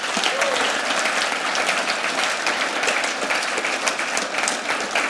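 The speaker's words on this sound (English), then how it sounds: "could we give like a quick round of applause to all of our worship people and media people" A church congregation gives a lively round of applause for its worship and media team, dense, close clapping that stays even and full throughout about five seconds.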